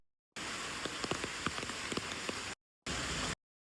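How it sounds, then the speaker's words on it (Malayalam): Morning rain falling during Onam in Kerala, a steady, soft hiss of drops on surfaces with scattered louder patters. It stops briefly and then resumes. "ഇത് രാവിലെ പെയ്ത മഴ."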